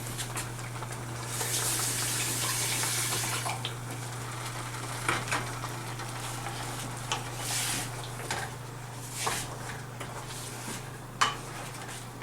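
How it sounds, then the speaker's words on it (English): Seafood pasta sauce simmering and bubbling in a pot, a steady low hiss of boiling with scattered soft clinks of a spoon against the pan and a steady hum underneath, no voices. "Just want that to boil for a minute or 2."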